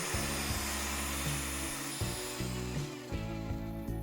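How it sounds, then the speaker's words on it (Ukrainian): A loud rotary hammer drill whirs continuously, its motor pitch dipping and surging as it churns through thick dry mortar mix, close to the microphone. "Добре перемішую перфоратором суху суміш"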